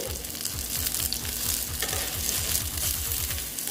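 Ridge gourd (jhinge) frying in a pan, giving a continuous bright sizzle with a rhythmic scraping stir pulsing through it, heard up close without any voices.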